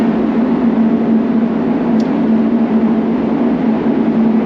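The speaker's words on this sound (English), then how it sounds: "excuse the noise, got a booth running" A spray booth running in a vehicle workshop produces a steady, loud mechanical drone with a constant low tonal hum and broadband air rush, unchanging throughout, with a faint brief click near the middle and no voices.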